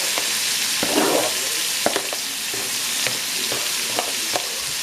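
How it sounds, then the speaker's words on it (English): Chopped vegetables, the holy trinity for a shrimp and sausage Creole, sizzle and sweat in a hot pan with a steady close frying hiss and occasional stirring clicks, no voices. "we're going to cook those down, let those sweat down for a few minutes"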